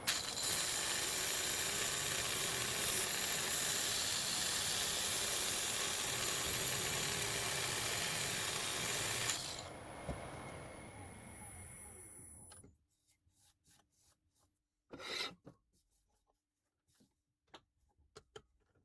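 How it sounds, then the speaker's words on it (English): Sanding the outside of a wooden bowl turned from an old oak floorboard, a steady loud abrasive whir for about twelve seconds that drops away to quiet, leaving a few faint scattered clicks and taps. "Now that the outside is shaped, I can sand the exterior for a clean finish."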